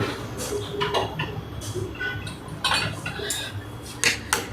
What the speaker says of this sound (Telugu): ఇట్లా షేక్ షేక్ చేస్తా ఉంటే చాయ్ కూడా షేక్ షేక్ ఆడిస్తుంది